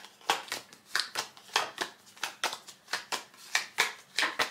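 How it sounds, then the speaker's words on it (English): Tarot cards being shuffled by hand, with a steady run of about a dozen crisp riffling bursts in an even rhythm, close and moderately loud with no talking. "I'm just gonna go ahead and shuffle and then pull the cards out"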